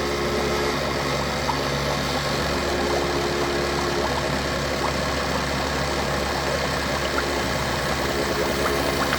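An Epson XP600 DTF printer running a printhead clearing cycle gives a steady, continuous mechanical hum and whir with a faint watery flow underneath, even and unbroken, close by with no voices.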